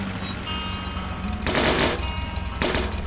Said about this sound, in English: I wonder if that crackling sound indicates there's actually something wrong with our engine that's getting progressively worse.